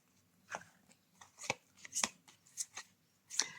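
Tarot cards are handled in a quiet room, giving a scattered series of soft flicks, slaps and papery snaps at irregular intervals, with no voices.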